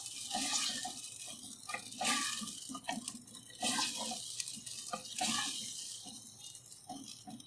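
Water splashes and gushes in uneven surges into a cooking pot of dal gosht with yogurt, close and steady for several seconds, with no voices.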